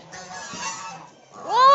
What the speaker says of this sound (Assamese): হাঁহ বিলাক